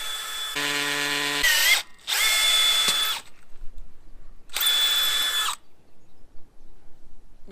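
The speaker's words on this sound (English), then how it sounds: "Was that because I didn't pull the drill out and clean it out?" A power drill bores into concrete in three loud, steady bursts of about one to one and a half seconds each, separated by short pauses, with a whining tone running through the grinding and no talk.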